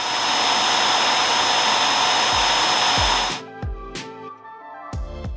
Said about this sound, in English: the docking station actually sucks up all the dirt that's in your